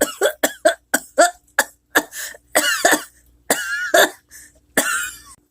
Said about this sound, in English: Seriously, I won't die of a cough.